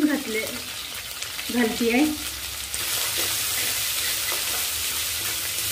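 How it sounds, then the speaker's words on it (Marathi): Cumin, mustard seeds and curry leaves hit hot oil for a samosa filling, crackling and sizzling loudly and continuously, with someone speaking over the first two seconds before the hiss carries on alone. "आता त्यामध्ये मी थोडे जिरे घालतेय, थोडी राई, कढीपत्त्याची पानं घालतेय"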